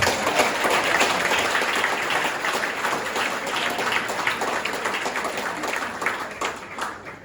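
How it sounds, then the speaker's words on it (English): Sustained crowd applause at a religious affairs specialist gala, a dense wash of clapping that holds steady throughout and tapers slightly near the end. "let's give them another round of applause"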